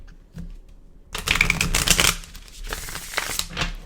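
Close, crisp riffle of playing cards being shuffled, a rapid flutter lasting about a second, followed by softer card handling and taps.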